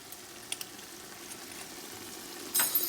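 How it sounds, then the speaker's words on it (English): Chicken coated in biryani masala sizzles steadily in a pan of oil, a soft continuous frying hiss that swells louder near the end, with no voices. "So I'll just wait for it to sizzle."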